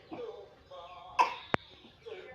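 A sick little girl coughs once indoors, a short, sharp, close burst amid soft background sounds and a faint adult voice.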